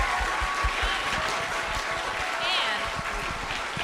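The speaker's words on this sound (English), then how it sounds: "please join me in giving not only Ms. Rosander, but all of our engineers and technicians a round of applause" Applause for engineers and technicians at a school event, a short burst of dense clapping from the gathered audience, steady throughout with faint voices underneath.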